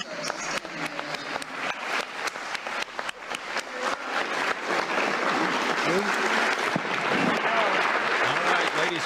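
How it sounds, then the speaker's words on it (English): A crowd breaks into sustained applause, sharp scattered claps at first swelling into a dense, loud roar of clapping with voices mixed in. "thunderous applause."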